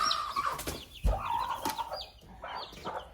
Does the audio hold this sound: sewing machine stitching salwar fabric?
no